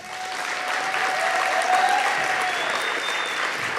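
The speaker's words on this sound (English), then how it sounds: "Let's give our region champions a round of applause." A school audience claps steadily at an athletic awards night, honoring region champions, with sustained, dense applause filling the hall at an even level throughout.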